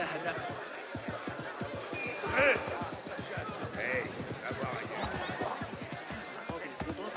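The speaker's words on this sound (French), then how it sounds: "J'aime bien les chevaux comme ça." Horses in the video game AC Mirage, steady rhythmic clip-clop of hooves trotting throughout with a couple of short neighs rising above, under game sound and faint background voices.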